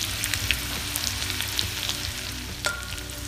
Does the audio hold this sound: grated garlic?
yes